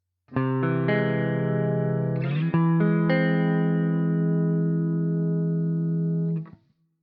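Electric guitar with distortion and effects plays a quick run of augmented chord inversions, then lets one long chord ring out steadily before cutting off.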